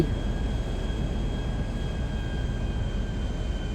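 A private airplane flies in GTA V, giving a constant, even engine drone with a faint high whine running underneath, loud and unbroken from start to finish.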